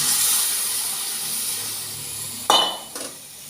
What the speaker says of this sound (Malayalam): പൊടികളെല്ലാം മൂത്ത് വരുമ്പോൾ ഇതിലേക്ക് നമുക്ക് ചൂടുവെള്ളം ആഡ് ചെയ്ത് കൊടുക്കാം.